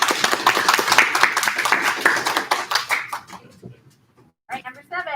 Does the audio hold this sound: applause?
yes